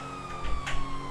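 Police car siren from a GTA 5 roleplay chase, a steady tone holding through a short stretch with a couple of low thumps beneath it.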